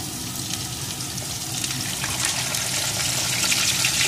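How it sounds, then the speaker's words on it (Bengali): Potato pieces fry in mustard oil in a wok, giving a steady, close sizzle that builds slightly louder over a few seconds with no talking. "এখন আলুটা সুন্দর করে ভেজে নেব।"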